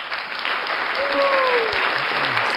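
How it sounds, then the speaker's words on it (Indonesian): Sustained applause from an audience at a talk show and book discussion fills the space, steady and dense, with a faint whistle sliding through it. "Kita kasih tepuk tangan dulu untuk Coach Abay ya."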